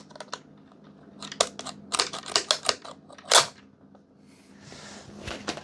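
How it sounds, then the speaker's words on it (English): Scissors snip and crunch through Nintendo Switch 2 bundle packaging in a quick irregular series of sharp close clicks and cuts, with rustling in between. "Let's get some scissors on this thing."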